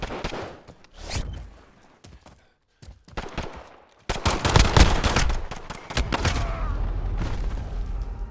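Gunfire in Call of Duty: Modern Warfare, a few isolated sharp shots early on, then a dense, loud burst of rapid firing that trails into a sustained rumbling roar.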